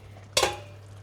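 A spoon scraping and knocking once against a pot of bolognaise sauce with tomato coulis, a single short clatter that quickly fades over a quiet low hum.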